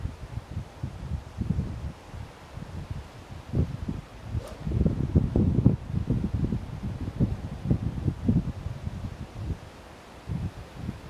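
Gusty wind buffets the microphone on an open golf course, a steady low rumble of irregular bursts and swells lasting throughout, with no talking.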